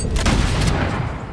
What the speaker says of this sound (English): Now we're gonna use our Harrier to finish this guy off. And we're going to shoot this guy